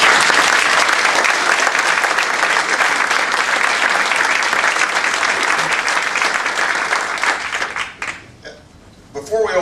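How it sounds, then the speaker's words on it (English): A large audience at a foreign policy campaign forum bursts into loud, sustained applause for the campaign's advisors, dense clapping that holds steady before tapering off near the end. "Please give them a big round of applause."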